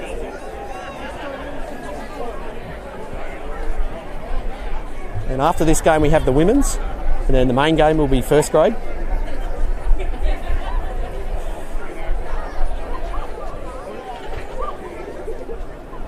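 Crowd chatter at a Griffith versus Wagga City second-grade rugby league match, a steady babble of many voices throughout with a close announcer speaking over it.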